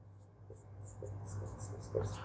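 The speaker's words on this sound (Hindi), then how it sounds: "इसको मैं 3 बार लिखता हूं।" A chemical formula is written on a board in a chemistry class, producing soft scratchy strokes in short bursts, faint and close, over a low steady hum.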